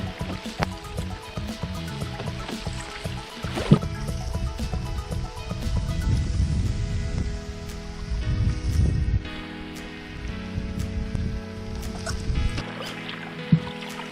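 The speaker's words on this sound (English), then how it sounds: "A little bit of rain, which adds a little character to the video, I think." Light rain falls while canoeing through a wilderness lake channel, with soft scattered patters and drips against a quiet, steady water wash.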